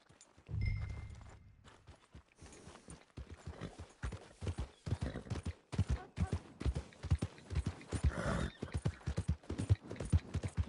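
Morgan horse hooves clip-clop steadily in Red Dead Online, with a neigh near the start, the irregular hoofbeats carrying on loud and close throughout.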